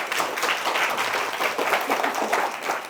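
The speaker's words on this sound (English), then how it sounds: "It's wonderful to get a warm applause for arriving." Warm audience applause fills a lecture hall as a speaker arrives, a steady wash of many hands clapping at moderate volume for the whole few seconds.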